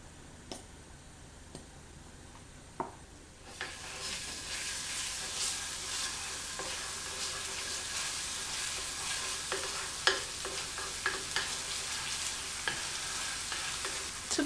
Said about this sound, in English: And then we're just going to stir fry everything.